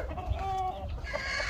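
A tame hen that has fled from the roosters gives a short run of close clucks, a few quick harmonic calls over a low farmyard rumble.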